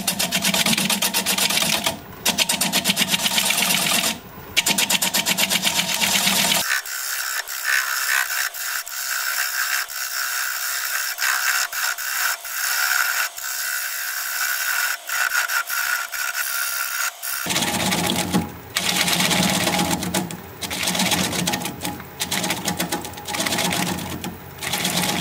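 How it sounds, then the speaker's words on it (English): Wood lathe turning at about 500 rpm while a 3/8 inch standard grind bowl gouge cuts the tenon off a wooden bowl, producing continuous loud scraping and rasping with a low motor drone, close and without talk. "I'm going to use a 3/8 inch standard grind bowl gouge and commence to removing that tenon."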